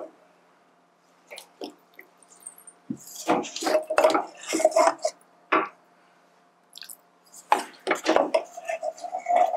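Millet flour dough being mixed by hand with water in a bowl for murukku, giving irregular wet squelching and bowl-scraping bursts with brief pauses between them.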